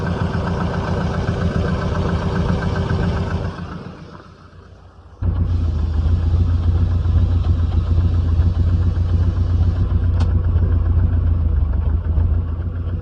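A 1979 Subaru BRAT pickup runs at idle after four years of sitting. The engine drones steadily and loudly, dips and softens briefly, then catches again and keeps running evenly and close to the microphone.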